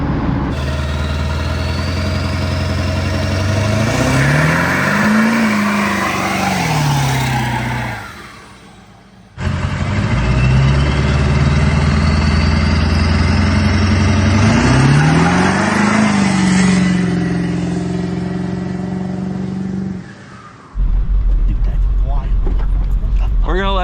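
A Ford 7.3L Powerstroke diesel truck engine revs up and pulls away in two long loud runs, pitch climbing and falling with each acceleration, broken by a brief drop in sound between them.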